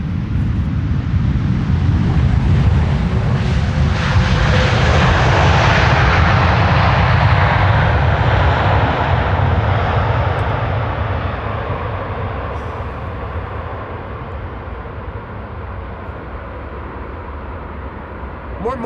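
Delta Airlines jet landing at Amsterdam Schiphol with thrust reversers deployed, a loud broad jet roar that swells, holds, then slowly fades as the aircraft decelerates down the runway.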